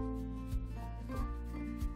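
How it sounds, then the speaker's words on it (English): A foam brush works stain onto a wooden tray in short strokes, making soft rubbing and brushing scuffs repeated about every half second over a steady low hum, close and fairly quiet. "So I brush on the stain, working in small sections at a time."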